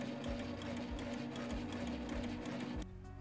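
A sewing machine stitching fabric, with a steady, close mechanical whirring and rapid needle tapping that runs continuously and then stops, with no voices.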